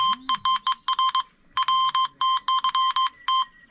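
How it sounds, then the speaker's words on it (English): Phone message alert tone: a rapid series of short, bright electronic beeps in quick bursts, repeated several times with brief gaps, loud and close, alone. "That's my phone. I've just got a message."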